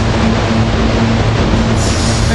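A Newark commuter train rolls through 30th Street station at rush hour with a loud, close rumble, a steady tonal hum and a brief squeal near the end.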